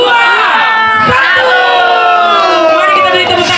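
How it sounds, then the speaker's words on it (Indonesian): Loud crowd at a 2024 Manokwari regent candidates' political rally cheers and shouts just after a countdown, a dense, continuous roar of many voices with whoops rising over it. "Mari kita beri tepuk tangan yang meriah."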